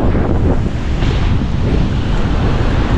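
Loud, steady typhoon wind roaring and buffeting on a coast in the Philippines, with a continuous rushing noise like surf beneath it and no letup.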